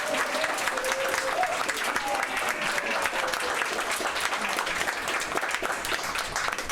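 Sustained applause fills a talk audience at a game development presentation in Vancouver, dense steady clapping from many hands throughout, with faint voices mixed in.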